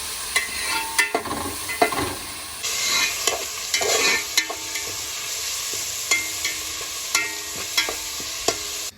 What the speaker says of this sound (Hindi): मैंने अभी चावल डाले हैं प्याज फ्राई करके